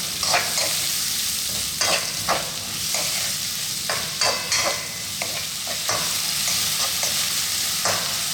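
Sliced onions fry loudly over above-medium heat for a Sri Lankan prawn curry, giving a constant close sizzle broken by repeated scraping stirs against the pan.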